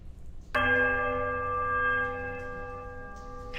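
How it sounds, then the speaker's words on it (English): A heavy iron bell in the Pillars of Eternity video game strikes once, then rings as a steady, shrill, warbling tone that slowly fades toward a mournful chime. "Bell sounds a strange warbling peal that grows to a painful shrillness before it diminishes to a mournful chime."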